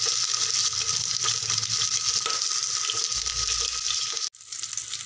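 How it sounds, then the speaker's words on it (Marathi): Chicken liver frying in hot oil, a close, continuous crackling sizzle with faint stirring that breaks off briefly near the end. "हे बघा, कलेजी आपण व्यवस्थित फ्राय करून घेऊ"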